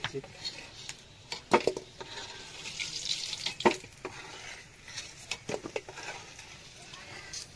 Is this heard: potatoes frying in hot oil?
yes